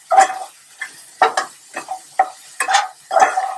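Indonesian fried rice (nasi goreng) is stir-fried in a pan, with about eight quick scraping, sizzling strokes of a spatula at an irregular rhythm, close and clear with no talk.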